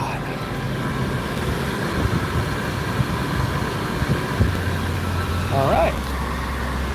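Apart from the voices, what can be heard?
2019 Buick Encore engine idling smoothly after repair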